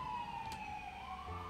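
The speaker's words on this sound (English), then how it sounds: "So you can hear the sirens outside." Sirens wail outside in the video game Trail of the Twister, a steady, drawn-out tone that slowly slides in pitch, moderately loud and alone with no talking.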